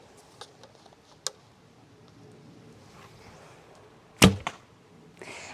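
A single sharp arrow release from a Hungarian-style bow, a loud crisp snap standing alone with a quick faint after-tap and then a soft rustle.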